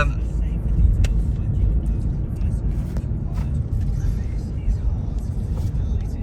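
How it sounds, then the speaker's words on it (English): Cars in slow, congested traffic on Hatfield Road in St Albans, heard from inside a vehicle: a steady low engine and road rumble runs continuously throughout. "even though I'm stuck in traffic that I hate"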